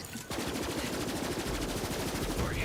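Dense, rapid gunfire from snipers in the video game Borderlands 3: a continuous barrage of loud, overlapping shots and impacts that starts abruptly after a brief lull and keeps hammering throughout.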